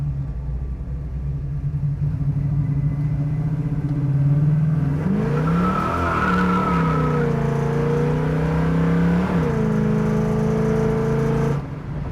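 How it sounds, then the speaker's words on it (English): A 1971 Chevrolet Camaro muscle car rumbles steadily from inside while driving, its throaty engine note rising and falling as it shifts and eases off in traffic, continuous and fairly loud with no talk. "It's not excessive, but it's definitely got a nice throaty muscle car sound."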